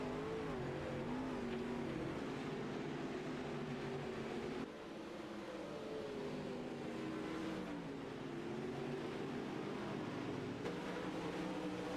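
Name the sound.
race cars racing on track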